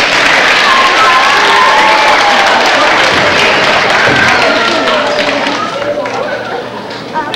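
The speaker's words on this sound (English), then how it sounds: "So let's give your parents a round of applause." Loud audience applause for parents at a 1997 school concert, a dense sustained roar of clapping mixed with cheers and scattered voices, gradually easing toward the end.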